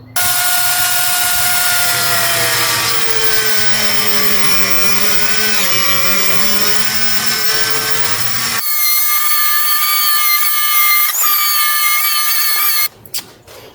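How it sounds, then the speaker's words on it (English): A Dremel saw cuts a small wheel for a tiny ATV drift wheel, a loud, high-pitched continuous whine that shifts pitch under load, then rises to a sharper tone before cutting off near the end. "I ended up using this Dremel saw."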